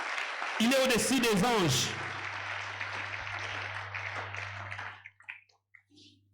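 A church congregation at a worship service breaks into applause and acclaim for Jesus. A loud spoken line comes first, then a sustained wash of clapping and cheering over a low hum, fading into scattered sounds.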